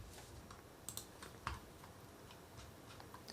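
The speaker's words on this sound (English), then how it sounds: "so here I will type France" Typing on a computer keyboard while entering a route destination in truck-posting software, a few faint scattered key clicks under quiet room noise.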